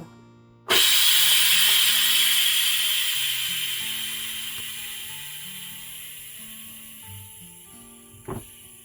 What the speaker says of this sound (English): I'm going to release the steam.